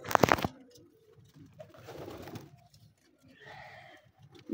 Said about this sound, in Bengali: আমার কবুতরের লফটে আরও অনেকগুলো কবুতর আছে